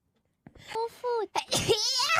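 A sneeze from a sneeze collection, a sharp explosive burst at the end following a short run of high-pitched vocal sounds and breathy intakes, close and fairly loud.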